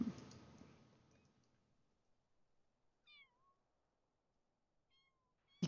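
A cat in The Sims 4 gives two short, high meows a couple of seconds apart, quiet against near silence, after a fading burst of noise at the start.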